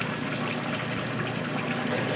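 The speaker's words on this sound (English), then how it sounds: "then fill up with more water" Water gushes steadily into a GE 2024 top loader washing machine during its normal cycle, a constant, close, even rush with no breaks and no talk.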